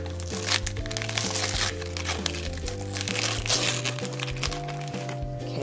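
Christmas gift wrapping paper with a penguin print being crinkled and torn open, loud close rustling and crackling over steady tonal background music.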